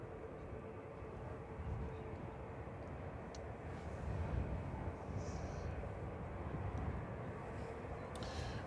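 A passenger jet arriving from Palma de Mallorca touches down firmly at Manchester Airport, a distant, steady engine roar and broadband rumble that swells slightly midway, heard alone without talk.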